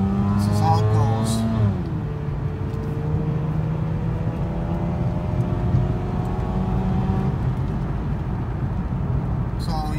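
Mazda RX-8 rotary engine revving up through the gears with rising whine, a shift drop around two seconds in, then a sustained steady pull with road and wind noise, heard from inside the car.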